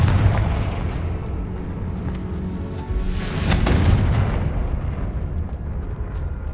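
Fiery blasts from the Confringo spell in Hogwarts Legacy boom out over a rumbling battle backdrop, with a sharp burst and crackle in the middle and heavy, continuous low rumble throughout.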